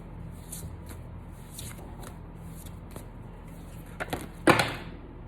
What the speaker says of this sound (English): These are big cards, so it's a little tough to shuffle them.